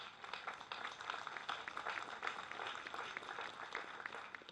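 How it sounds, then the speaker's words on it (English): Applause for newly graduated LAPD police academy recruits who served in the military, a dense, steady wash of many hands clapping at once, filling the whole stretch evenly without a break. "give them a round of applause"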